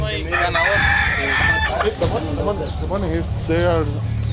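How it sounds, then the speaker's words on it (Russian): Roosters crow and cluck loudly at a cockfight in Honduras, several calls overlapping amid a noisy crowd of voices talking and shouting nearby. "А так петушиная драка превращается в кровавую битву"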